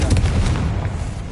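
Confringo fire blast spell in the Hogwarts Legacy video game, a loud, close, booming burst with a deep low rumble that fills the short moment.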